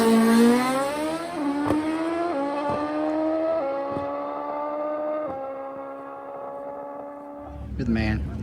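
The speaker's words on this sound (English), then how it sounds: "This is the Pro Street Bike, a Brad Mummer, world's quickest nitrous street bike." Nitrous-fed Pro Street drag motorcycle engine, billed as the world's quickest nitrous street bike, revs loudly in rising, gear-stepped pulls with a strong harmonic whine, ending in a burst of rumbling noise.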